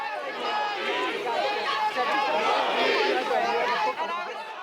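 Gathered crowd during the Crown Heights riot: dense, loud babble of many voices shouting and chattering over one another, sustained and close throughout with no single voice standing clear.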